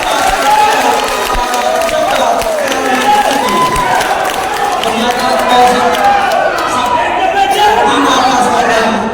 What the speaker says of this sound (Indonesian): Berikan tepuk tangan yang sangat meriah untuk ketiga